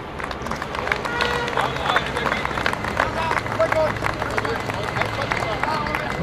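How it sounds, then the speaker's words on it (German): Crowd cheering and clapping at a tractor pulling event, a steady dense roar of applause and voices throughout, loud and close, with no pauses. "auch für den Team ist ein riesiger Applaus"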